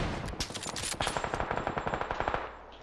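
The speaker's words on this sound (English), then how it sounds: "I'm getting shot by somebody on the field." Gunfire in the video game PUBG comes as a rapid automatic burst of evenly spaced, punchy shots after a few scattered cracks, loud and close with no voices.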